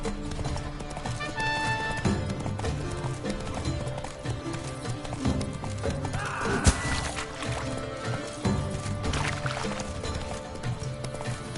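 The horse Roach gallops in a video game, a steady run of hoof clip-clops with a brief whinny partway through, heard over game music and ambience.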